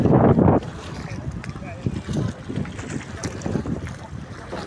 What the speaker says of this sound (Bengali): প্রচুর পরিমাণে বাতাস বইতেছে